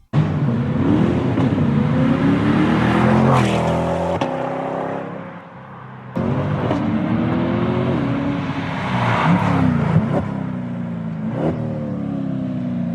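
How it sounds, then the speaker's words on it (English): Chevrolet Corvette C8 with an aftermarket exhaust system doing flybys, loud engine revving and accelerating past with rising and falling pitch, two passes with a brief lull between, no talking. "here's just a quick clip of it, the exhaust system doing some flybys"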